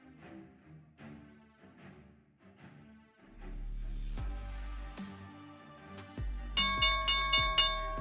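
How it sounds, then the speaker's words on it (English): A stock market opening bell rings in a series of resonant strikes that grow louder and more rapid toward the end, with no talking. "there's the opening bell"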